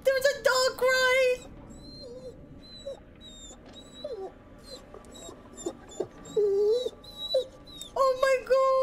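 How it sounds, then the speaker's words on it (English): A dog whimpers and cries in The Devil in Me horror video game, its high, wavering whines coming in repeated bursts, loudest at the start and end, over a dark, low game ambience with scattered faint tones. "There's a dog crying!"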